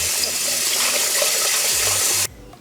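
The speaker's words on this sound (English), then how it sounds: "Obviously, you already know I gotta wash my rice." Tap water runs hard over rice in a sink, a loud steady gushing rush that cuts off abruptly near the end, leaving only quiet room tone.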